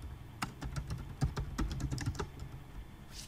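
Computer keystrokes typed at a steady, irregular rhythm while a title is entered in engineering software, close and fairly quiet with no voices.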